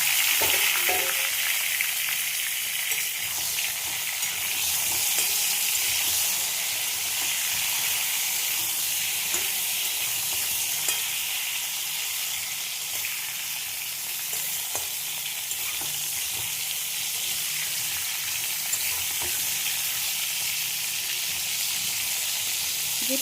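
Pointed gourd coated in salt and turmeric fries in a pan with a steady, strong sizzle and hiss that persists throughout, with occasional faint stirring clicks.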